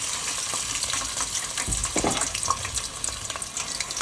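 Food dropped into hot oil in a deep fryer, kebab ingredients sizzling with a steady hissing bubble and a brief louder burst as it goes in, close and continuous.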